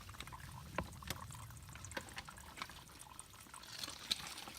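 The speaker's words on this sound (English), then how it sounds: "we're filtering our water" Water runs and trickles steadily while being filtered at a dirty trail-side water source on the Appalachian Trail, a continuous outdoor wash of flow with small splashes and clicks close by.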